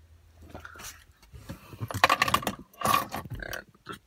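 A set of car keys jingles and clinks in short metallic bursts, close and fairly loud, with quiet pauses between the rattles.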